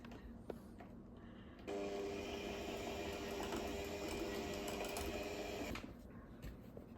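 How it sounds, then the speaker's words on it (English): A Cuisinart rechargeable hand mixer beats butternut cream pie filling: a steady motor whir starts abruptly, runs loud and even for about four seconds, then cuts off, with quiet background between. "this is a Cuisinart rechargeable mixer"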